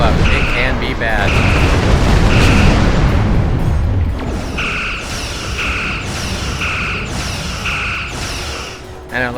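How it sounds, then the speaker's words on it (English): Torpedoes explode in Star Trek Online, giving deep, rolling booms with whooshing blasts. Repeated electronic beeping tones pulse over the rumble in the second half. Everything is loud and continuous. "Fire torpedoes."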